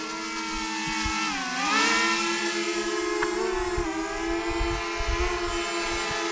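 A DJI Mavic Mini drone hovering and flying close by, a loud steady high-pitched propeller whine that dips and rises in pitch briefly as it maneuvers, with no talking.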